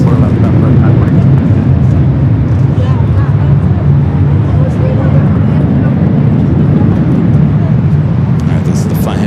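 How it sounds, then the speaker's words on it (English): A Boeing 787 Dreamliner passes behind a building at LAX, its jet engines giving a steady, loud, broad roar with a low hum throughout, while a voice talks over it. "Behind the VIP building is that Dreamliner heading to Papa Ete"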